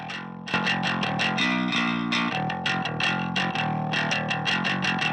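An electric bass guitar plays a choppy run of plucked notes with a clanky attack, compressed and gritty with a distorted, effected tone from SPX90 and Dimension-D processing, steady and loud with no voices.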